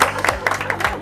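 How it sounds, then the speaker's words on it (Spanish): Audience applause at a science school presentation event, a short burst of dense clapping over a low hum, with some background voices mixed in. "Yo creo que un aplauso sin duda alguna."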